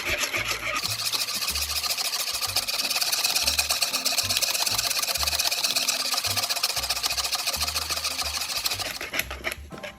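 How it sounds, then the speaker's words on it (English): A thick pineapple cake filling is whisked steadily in a bowl, the close, continuous scraping and rubbing running unbroken for the whole stretch without any talk. "I'll whisk that for about 2 minutes."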